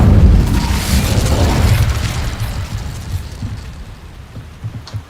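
In Hogwarts Legacy, an Incendio fire spell bursts with a heavy booming whoosh, then trails off into a crackling, rumbling roar that fades over several seconds.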